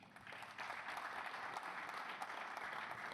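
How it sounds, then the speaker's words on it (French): An audience at a mosque inauguration gives sustained applause, a soft, even wash of many hands clapping heard from a distance. "Si vous souhaitez montrer votre appréciation par des applaudissements"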